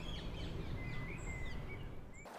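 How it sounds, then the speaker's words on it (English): Birds chirp and whistle over a low, steady outdoor background hum, several thin calls overlapping at moderate distance with no talking. "birds"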